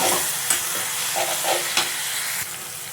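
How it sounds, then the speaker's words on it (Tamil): Ginger garlic paste frying in oil for an egg curry, a dense close sizzle broken by several sharp clinks and scrapes of a spoon stirring the pan. "இதுவுமே இந்த எண்ணெயில் கொஞ்சம் நல்லா குக் ஆகட்டும்."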